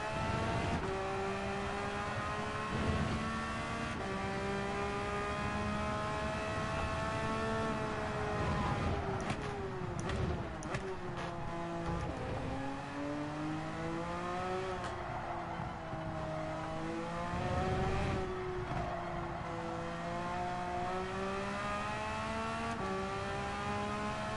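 Race car engines howl through a Gran Turismo video game race, rising and falling in pitch through repeated gear shifts and throttle changes, loud and continuous without talk.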